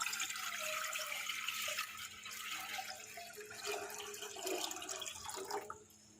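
Water runs and pours into a pan for boiling macaroni, a steady splashing, gurgling stream at close range that tapers off at the end.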